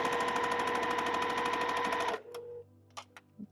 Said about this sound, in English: Now I'm just going to sew this side to this flying geese.